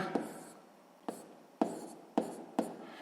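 Pen or chalk writing out a fraction during a sixth-grade math exercise, five distinct strokes at irregular intervals, each a sharp scratch tailing off, close and quiet with no talk.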